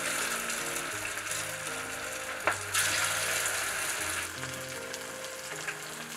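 Meatballs frying in oil over low heat hiss and crackle continuously at a moderate level, with one brief sharp clink partway through.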